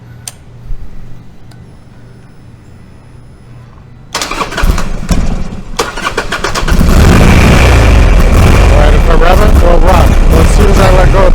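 A motorcycle engine, fuel-injected with sensor trouble, cranks and catches late at night, revving up loudly and roughly close by after a quiet stretch with faint clicks, running unevenly at high volume to the end.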